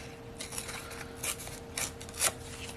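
A small scrap of white cardstock torn by hand for a Christmas tree craft tag, several short, close papery rips and rasps spaced across a quiet room.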